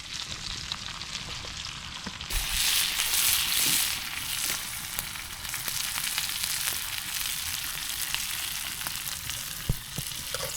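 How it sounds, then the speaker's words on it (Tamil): Green garfish fry in oil on a stone griddle, giving a steady, dense sizzle that rises louder after a couple of seconds and carries on without pause, with faint scraping and clatter now and then. "இன்னைக்கு நம்ம மீன் வறுவலும் காடை அவியலும் பண்ணிட்டு இருக்கோம்"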